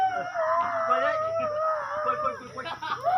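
A dog howls in a long, wavering drawn-out tone close by, the pitch sliding up and down over several seconds, with faint background sounds beneath it.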